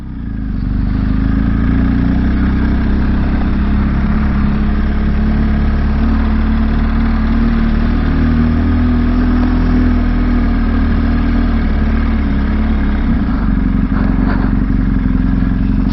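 A motorcycle engine runs at a steady, loud mid-pitched drone with a constant throb and light clatter while riding through Ireland, holding nearly unchanged for the whole stretch with no voices.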